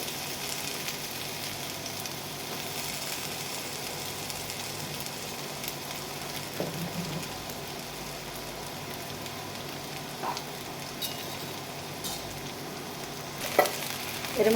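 Boiled potatoes fry and sizzle in hot oil, a steady crackling hiss with occasional stirring clatter, close up and without talk.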